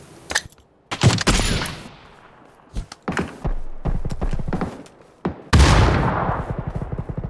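Gunfire in a PUBG match, loud sharp shots and short rapid bursts separated by brief quieter gaps, with ringing echoing tails after the strongest blasts.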